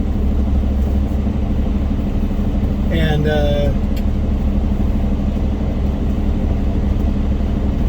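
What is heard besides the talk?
stainless steel spread-axle semi truck driving past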